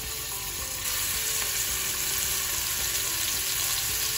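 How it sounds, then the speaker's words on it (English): Eye fillet beef steak sears in an oiled pan, producing a loud, continuous close sizzle that jumps up in intensity as the meat goes in and holds steady. "We are going to sear the eye fillet beef steak."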